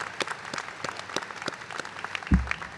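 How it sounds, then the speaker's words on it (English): Scattered applause from a crowd at a college commencement ceremony, fairly soft and sparse, with a brief low thump near the end. "Let's give a big round of applause."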